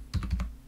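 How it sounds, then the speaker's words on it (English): Four quick, light keystrokes tap on a computer keyboard in an even burst lasting under a second, close and fairly quiet with no talking. "I'm going to type"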